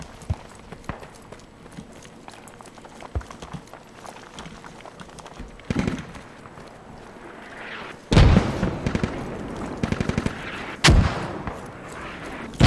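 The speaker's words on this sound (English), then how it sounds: "they got some more mortars up" Mortar fire in the Squad video game sounds as a few heavy, booming impacts, loud and close, spaced several seconds apart over a bed of low rumble and scattered smaller gunfire pops.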